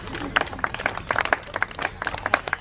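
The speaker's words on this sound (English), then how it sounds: "you can applaud, that's okay" Brief scattered audience applause at a zoo bird show, uneven claps of moderate loudness from a crowd, short and fairly sparse.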